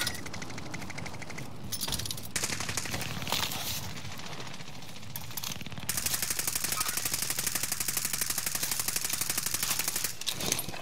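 Rapid automatic gunfire rattles through a Warzone Rebirth match, bursts at first and then a long sustained stream of shots near and loud, with a few single cracks between.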